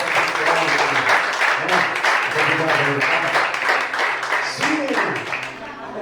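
Church congregation applauding, steady loud clapping throughout with voices speaking over it and a lower-pitched murmur beneath, tapering slightly at the end.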